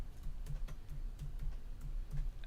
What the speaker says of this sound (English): I'm typing in right now.